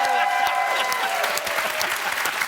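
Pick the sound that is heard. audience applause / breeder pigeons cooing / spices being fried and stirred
audience applause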